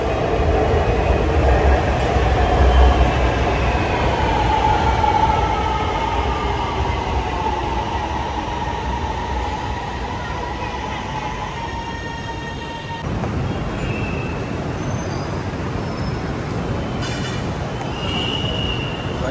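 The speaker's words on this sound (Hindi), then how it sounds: "सामने से ट्रेन आ रही है" Orange Line metro train arriving at a station, a loud, steady rolling rumble with rising whines and squeals that fades slightly and shifts as it slows, with tonal beeps near the end.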